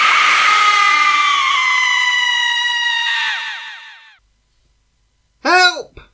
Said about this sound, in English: It sounded like a painful scream coming from the trees